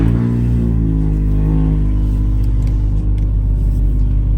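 2018-2024 Toyota Camry engine started through an aftermarket push-to-start kit, a loud close cranking burst that settles into a steady, deep idle rumble with no talk over it.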